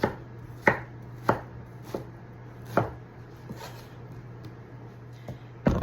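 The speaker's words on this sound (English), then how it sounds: "we can cut these into halves or thirds depending on how big your pineapple is" A knife chops through a pineapple on a cutting board, cutting it into thirds: seven or eight sharp separate knocks at an uneven pace, close and clear over a low steady hum.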